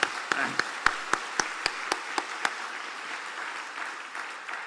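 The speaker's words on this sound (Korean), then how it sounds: "한번 수고한다는 의미로 한번 박수 한번 부탁드리겠습니다" A congregation in a Korean Presbyterian church applauds the choir during a Sunday morning service, with a few sharp, evenly spaced claps standing out over a softer wash of clapping that fades to a murmur.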